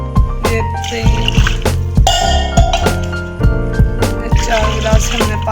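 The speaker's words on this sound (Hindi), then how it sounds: "अब इसके अंदर हम पानी डाल देते हैं।" Water from glasses splashes into a pot for chicken pulao in repeated pours with sharp clinks of the glass against the rim, all over steady background music.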